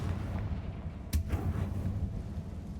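A single sharp blast from the Confringo spell in Hogwarts Legacy bursts out over a low rumbling game background, followed by a brief decaying tail.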